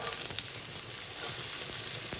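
Two large chopped onions sizzle and fry steadily in a pan for an omelette, a close, continuous hiss with no talking.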